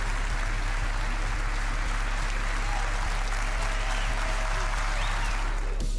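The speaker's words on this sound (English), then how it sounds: "We'd like a round of applause for these guys." A crowd applauds stand-in Counter-Strike: Global Offensive players at an esports event, with steady, dense clapping throughout and a voice speaking over it.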